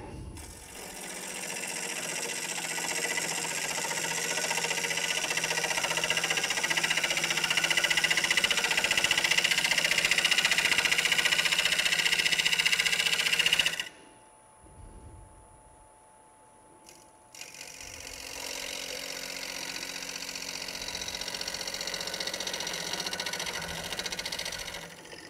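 A wood lathe spins a pointed vessel while a spindle gouge cuts, giving a steady high whirring hum that stops abruptly partway through, falls quiet for a few seconds, then starts again at a lower level.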